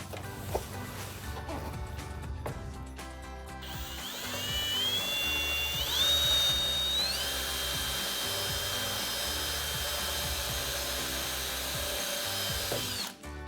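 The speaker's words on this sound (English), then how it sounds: "We're gonna go ahead and start by trying just using the drill method." A power drill drives fasteners into a carbon fiber front splitter on a 2014-2019 Corvette. The motor whirs in short bursts, then rises into a loud, sustained high whine that runs for several seconds before cutting off.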